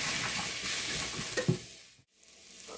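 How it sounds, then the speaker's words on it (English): Celery, mushrooms and onions sizzle steadily in a pan on the stove while a utensil stirs them with a few soft scrapes, the frying noise dipping briefly before carrying on, with no voice. "And we are just going to saute until it is soft."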